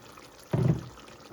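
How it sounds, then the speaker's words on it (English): A short splash of water poured into a pot of chicken dopiaza cooking in masala, a single close pour lasting under half a second against quiet kitchen background. "Just going to add a tiny bit more of water there."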